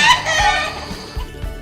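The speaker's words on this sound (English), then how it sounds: "Baby chicken." A baby chick cheeps on a farm, giving a quick run of loud, high peeps up close followed by softer clucking sounds.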